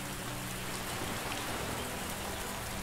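Steady rain falls in the survival video game Under A New Sun, an even, unbroken hiss of drops on surfaces, moderately soft and continuous with no talking.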